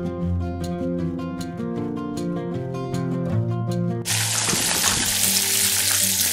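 Pieces of fish dropped into hot oil over a medium flame burst into a loud, dense crackling sizzle that rises abruptly partway through, with a melodic music track playing throughout and no speech.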